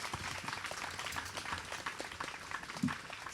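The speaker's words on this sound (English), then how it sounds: "Let's give them a round of applause" Applause from a museum audience for the panelists of a talk on ancient sculpture, thin scattered clapping that is fairly quiet and lasts a few seconds.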